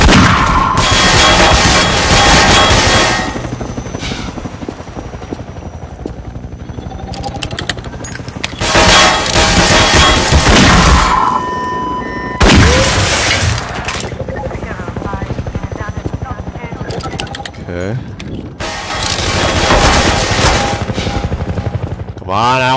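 Enemy gunfire in the video game Half-Life 2 arrives in loud, heavy bursts with booming impacts and mechanical rumble, separated by quieter gaps, while someone talks over parts of it.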